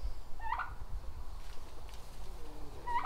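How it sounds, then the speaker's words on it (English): A hen turkey in a farmyard gives two short gobbling bursts, one near the start and one at the end, over a low background rumble with no talking. "Come on, Miss Turkey."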